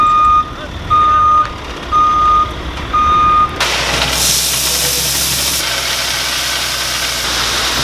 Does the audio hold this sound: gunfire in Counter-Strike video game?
no